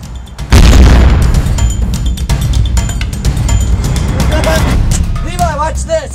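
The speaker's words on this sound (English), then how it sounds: "I just put a grenade down there!" A grenade detonating in a video game: a loud, close boom that swells and then rolls on as a sustained rumble, with voices talking over it and chirping, swooping game sounds toward the end.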